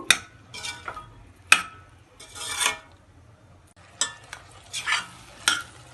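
Onions sautéing in a pan, heard as a low sizzle with intermittent bursts of spoon scraping and stirring, several distinct strokes spaced across the clip, close and without talk.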